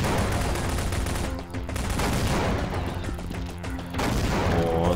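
Dense, continuous machine gun fire from the side-scrolling video game Half-Life 2D, rattling loudly and steadily for the whole stretch with brief dips before resuming at full intensity.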